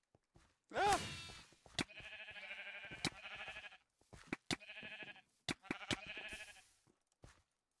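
Minecraft sheep in a Mineplex mini game bleat several times in close succession, loud wavering bleats broken by sharp clicks and thuds, with no talking over them.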